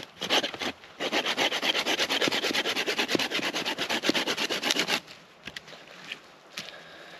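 Hand saw cutting short wooden tent supports at a Belgian Congo-style tent-sheet camp: rapid, steady back-and-forth strokes run close and loud for about four seconds, followed by a few scattered knocks and handling sounds.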